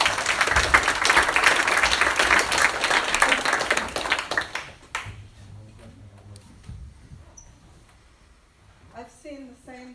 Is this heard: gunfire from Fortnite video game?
no